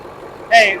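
A lawn tractor engine idles steadily at a low, fairly faint level through the moment, with a brief voice cutting in over it near the end.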